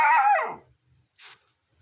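A single loud, close dog bark or yelp rings out at the start and trails off quickly, followed by near silence with a faint short noise.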